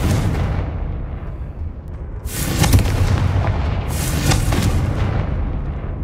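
Confringo fire-blast spell explosions go off in the video game Hogwarts Legacy on PS5: two heavy, booming blasts in quick succession, each with a rumbling tail, loud and close over a dull low background.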